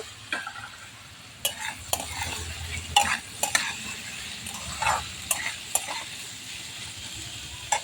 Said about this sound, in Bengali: এবার এটা চাপা দিয়ে ভেজে নেব। ঢাকাটা খুলে একটু নেড়ে দেব।